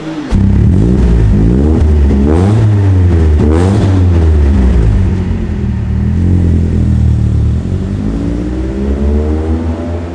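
A BMW E36 318is engine revs repeatedly up and down with a deep, bassy tone, loud and close, then settles into a rumbling idle.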